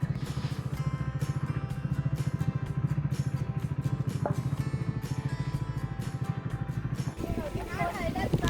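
A Scrambler 400X motorcycle rumbles steadily up close as it rides through a crowded area looking for a place to park, the engine's pulsing drone running nearly throughout before easing off near the end, with a voice speaking over it.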